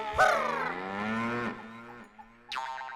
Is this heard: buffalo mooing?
yes